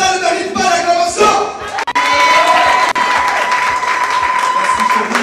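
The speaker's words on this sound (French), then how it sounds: "Ça ne mérite pas l'acclamation." A church congregation erupts in cheering and applause, clapping mixed with shouts and whoops from the crowd, loud and sustained, with a high sustained tone running through the middle.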